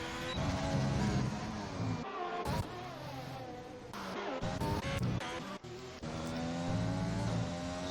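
Race cars, a McLaren among them, lap the Austria circuit with a continuous layered engine roar, and rising and falling whines swell and fade as the cars pass and shift through gears.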